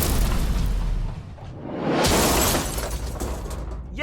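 A blast blows open a safe, a loud shattering boom with a rushing roar that swells, fades, then surges again, debris hissing throughout, with no voices.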